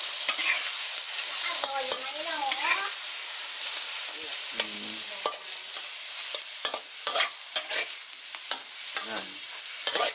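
A pan holds a stir-fry of egg and konjac. There is a continuous loud sizzle, with scraping and clinking of a utensil stirring through it, up close. Faint background voices come through now and then.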